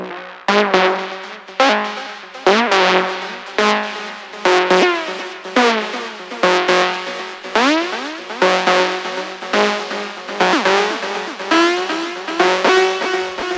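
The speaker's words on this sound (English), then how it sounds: "it basically is just shifting that pitch up and down even more, and we're doing that only in the build-up" Progressive house build-up with a repeating pitch-shifted synth that slides up and down in rapid sweeps, pulsing in steady rhythmic bursts with loud, dense, bright tone and no voices.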